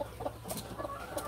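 Chickens and young chicks clucking and peeping softly in a poultry-raising setup, several short overlapping calls close by against a steady low background hum.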